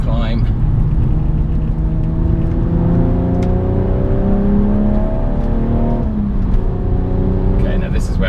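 A BMW M135i accelerates hard on the Nürburgring in dry conditions, its engine note loud and close. It rises through a gear, drops on a shift near the six-second mark, and climbs again, with someone talking over it.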